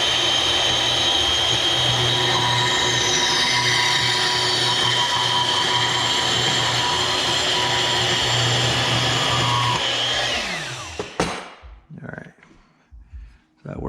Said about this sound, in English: I actually bought a heavy duty bandsaw.